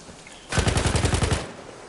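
Rapid burst of automatic gunfire in a multiplayer shooter video game, about ten evenly spaced loud shots fired in quick succession, then stopping abruptly.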